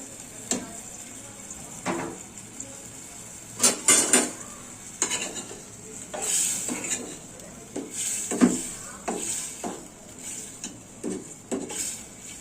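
Boiled potato pieces tipped into a pan of dried hilsa fish curry, bringing repeated light clinks and scrapes of a spoon against metal and a steady soft kitchen hiss, close, with no voices.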